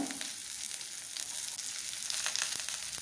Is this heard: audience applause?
no